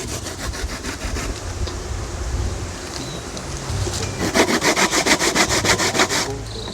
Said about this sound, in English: Coconut them grate up.